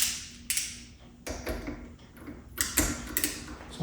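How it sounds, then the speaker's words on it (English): Ratchet turning while a replacement K-Tech piston kit cap is threaded onto a WP Xact motorcycle fork, giving clustered mechanical clicks and creaks in short bursts, close and moderately loud. "I'm going to have to try to push this direction while I'm turning the ratchet to try to get the thread in there."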